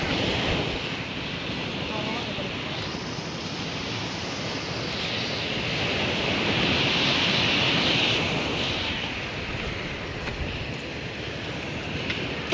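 Sea waves wash at the Tanza fish port, a continuous surging hiss mixed with gusty wind buffeting the microphone, swelling slightly in the middle and holding steady to the end.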